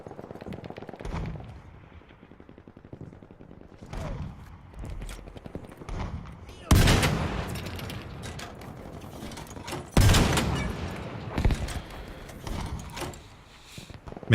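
Stationary weapon gunfire in Battlefield V, heavy booming bursts with loud blasts near 7 and 10 seconds amid rapid crackling shots and mechanical clatter, dense and close.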